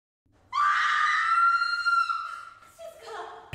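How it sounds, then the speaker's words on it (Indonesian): A girl in a film lets out a single loud, high scream lasting about two seconds, then tails off into a lower strained cry, close and alone. "tiba-tiba terdengar teriakan Shizuka"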